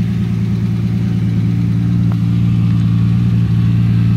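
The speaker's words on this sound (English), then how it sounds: "it's got a really nice exhaust note, nice and smooth running" A 1979 Toyota Celica Supra engine idles steadily and smoothly, a deep continuous rumble with an even exhaust note, close by and loud throughout.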